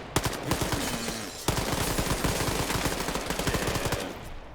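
Rapid automatic gunfire from a competitive multiplayer shooter match, with dense bursts of shots running almost continuously and a sharp loud onset partway through; no talking.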